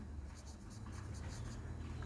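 During a physics lesson on vectors, a marker or chalk scrapes across a board in a run of short, quick strokes, faint against a low steady room hum.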